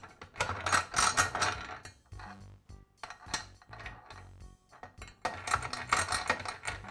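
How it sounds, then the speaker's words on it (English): Metal clicking and rattling as a vise nut is fitted into the screw guide of a Makita chop saw during repair, in close, busy bursts with brief pauses between them. "To reassemble, I'll place the vise nut in the screw guide."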